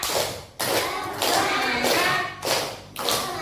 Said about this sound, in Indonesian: Satu kali lagi tepuk semangat!